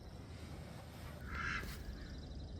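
Ducks in a covered barn enclosure, one short quack rising out of a low, steady background rumble, heard close and fairly faint, with no talking.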